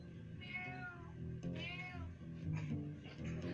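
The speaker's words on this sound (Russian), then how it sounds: "о, котенок" A kitten gives several short, high meows in quick succession, close and fairly faint, with no talking.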